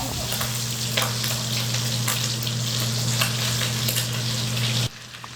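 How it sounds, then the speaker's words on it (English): Shrimp fry loudly in a pan with a steady, dense sizzle and crackle under a low hum, then the sizzle drops off abruptly near the end. "I'm gonna cook these shrimp first"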